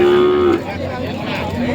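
Cattle at a cattle market in Som Poi Noi give one close, low moo lasting about half a second, then steady market noise continues.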